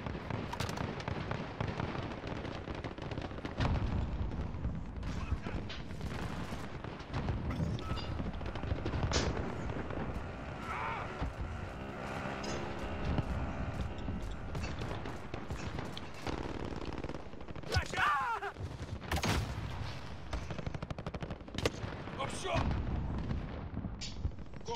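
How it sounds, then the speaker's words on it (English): Constant gunfire and explosions in the Call of Duty Warzone video game, with dense rapid bursts, booms and reloading clatter running the whole time under players' voices chatting over voice chat. "That guy just shot through the wall and killed us."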